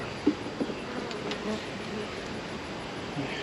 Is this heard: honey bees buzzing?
yes